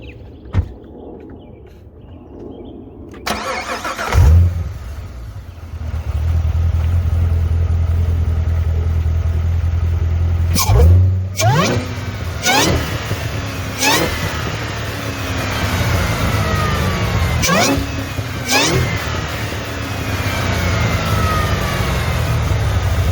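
A Corvette C7 Z06 with a supercharged engine cranks and fires up loudly, then settles into a steady idle punctuated by several sharp revs that rise and fall, heard close with the hood open.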